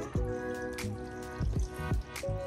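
About a cup of water is poured into a blender for a frozen berry smoothie, giving a short splashy trickle with bright gurgling drips, close and alone.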